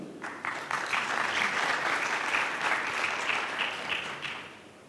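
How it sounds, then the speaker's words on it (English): Steady audience applause fills a fireside chat panel hall, a dense wash of many hands clapping at moderate distance that holds for several seconds and then tapers off. "let's give a big round of applause for Dr. Ali Abadi"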